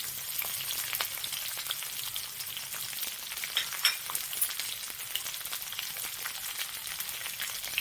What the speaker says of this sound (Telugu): కాజు వేగింది నాన్న, దీనిలో ఆనియన్ వేసాను.